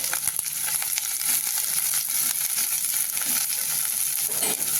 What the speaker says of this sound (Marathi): थोडंसं तेल तापलं की आपल्याला शिमला टाकून द्यायची आपण ही परतून घेऊ आता तेलामध्ये टाकून छान परतून घ्यायचं मऊ होईपर्यंत